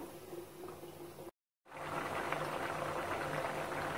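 A pot of coconut gravy bubbling steadily at a rolling boil, a continuous close simmering hiss broken by a brief moment of silence.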